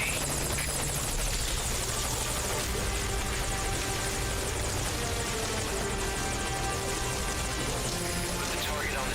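Helicopter hovering in the Metal Gear Solid video game, a constant thrumming rotor drone filling the scene at steady volume while a voice speaks over it.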